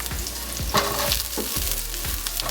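Onions and garlic fry in sesame oil for a stir-fry, a steady loud sizzle with scraping stirs and clatter through the pan, no voices.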